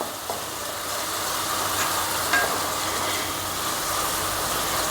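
Beef cutlet filling sautéed with turmeric and garam masala in a pan, a steady soft sizzle under occasional stirring scrapes, close and continuous.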